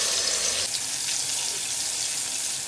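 Bay leaves and a ground spice paste fry in hot oil for a chicken korma, giving a steady, close, hissing sizzle that continues throughout.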